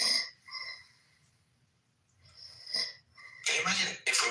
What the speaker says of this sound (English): we use his snoring as a beat